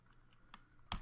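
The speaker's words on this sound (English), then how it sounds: "So now we're going to type in cd space" A short burst of typing on a computer keyboard while entering a Linux terminal command, a couple of faint keystrokes and then a louder cluster of clicks at the end, close and quiet.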